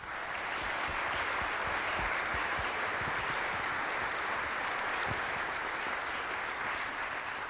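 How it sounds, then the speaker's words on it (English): Audience at a high school symphonic band and wind ensemble concert gives a round of applause: loud, dense, continuous clapping from many hands, steady for the full length. "If you would help me thank them with a round of applause."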